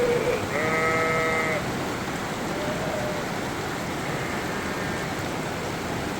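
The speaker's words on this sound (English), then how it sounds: "Those sheep are coming back." A couple of sheep bleat from a short distance, short wavering calls over steady heavy rain drumming on surfaces.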